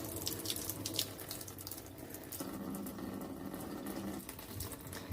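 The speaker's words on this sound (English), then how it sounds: "I'm going to go ahead and turn on the water" A bathroom tap runs steadily for bathing a small pet, giving a continuous broad water hiss and splash that shifts slightly in tone partway through, with no talking.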